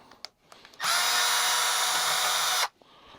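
A power drill whirs loudly and steadily for about two seconds while backing screws out of an old Bosch tankless water heater, with faint clicks and handling noises before and after.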